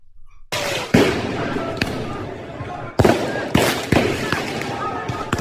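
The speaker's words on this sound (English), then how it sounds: "Using the fireworks like guns is fucking great, by the way." Fireworks set off in a city street after a Champions League final between Arsenal and PSG, several sharp loud bangs cracking out at irregular intervals over a dense crowd roar and voices.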